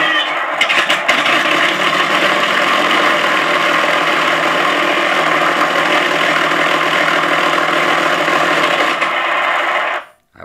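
Engine sound system on a Flightline RC F7F-3 Tigercat 1600mm twin-engine warplane model plays a steady, loud simulated piston-engine idle with a droning rumble for about ten seconds, then cuts off abruptly, with no talking.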